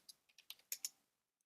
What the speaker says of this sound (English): Again, typing into the wrong thing here.